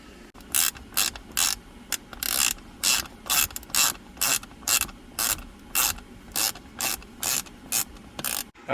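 Repeated ratcheting clicks from a ratchet driver fitted with a Torx 15 bit, working screws inside a 2009 Corvette C6 dash: short, evenly spaced bursts of crisp pawl clicking, close and clear, with no talk.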